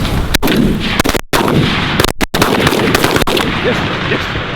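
Shotgun blasts during an early-season goose hunt over a fresh-cut corn field, a loud rapid volley of many overlapping shots from several hunters nearby.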